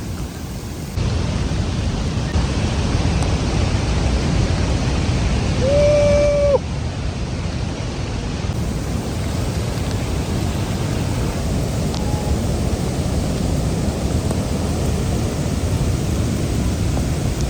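Victoria Falls thundering on the Zambia side, a loud, unbroken broadband roar heard close to the falls, with a brief high tonal chirp near the middle and no voices.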